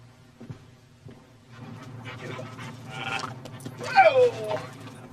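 A dog whimpering and giving short yips in a film scene, fairly faint and mixed under people talking, with a brief high whine near the end.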